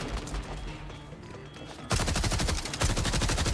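Rapid assault rifle fire from Borderlands 4 rattles in dense, continuous bursts. The gunfire is fairly quiet at first, then jumps into louder, fast-repeating shots that run to the end.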